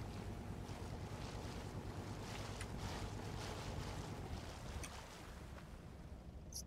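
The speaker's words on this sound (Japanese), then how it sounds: "こっち波がちょっと強いかな。" Ocean waves wash around a boat on open water in the survival game Rust, a continuous rushing surf with wind noise, steady and fairly faint, with no talk.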